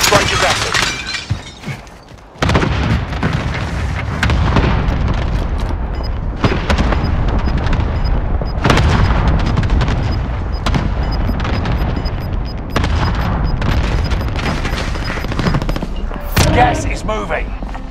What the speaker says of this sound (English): Mark target for airstrike. Got your request. Cluster strike is active.